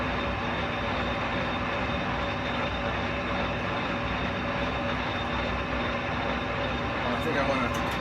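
A lathe turns 3/8-inch steel plate at 138 RPM, giving a steady, dense machine drone that holds evenly throughout, close and fairly loud.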